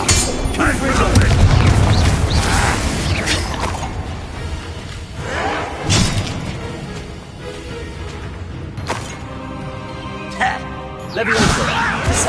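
In the Hogwarts Legacy video game, a Confringo blasting spell sets off heavy booming explosions with whooshes and crashing debris, several loud bursts spread over the scene, mixed with game voices and effects.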